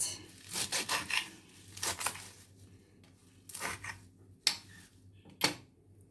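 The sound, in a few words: cutting leafy herbs for green seasoning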